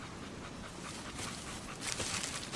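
A dog pants steadily in quick, breathy rhythm, faint and close under a hissy, noisy background, with no talk.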